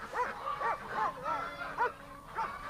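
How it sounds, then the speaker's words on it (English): A fox gives a series of high, yelping barks at irregular intervals, fairly faint and somewhat distant. "There's a fox out there!"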